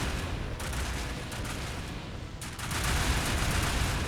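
Hippogriffs trade fire in a real-time strategy game battle, a dense continuous barrage of rapid shots and rattling bursts that swells louder in the second half, with no voices.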